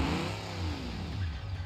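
Car engine in BeamNG.drive revving with a rising and falling note under throttle, a steady loud drone throughout the short burst, with no talking.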